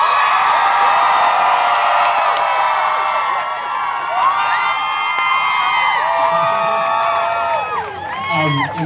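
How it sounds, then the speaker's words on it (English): A large crowd, children among them, yells and cheers loudly at a gathering. The sustained, high-pitched shouting and whoops fill the whole stretch without a break. "So I want you to all yell as effing loud as you can"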